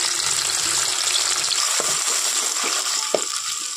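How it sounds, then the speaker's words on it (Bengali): Chopped medium-sized tomato frying in hot oil with spices for bhindi masala gives a steady, close sizzle, with a few soft stirring clatters near the end. "খুব ভালো করে কিন্তু টমেটোটা ভেজে নিতে হবে।"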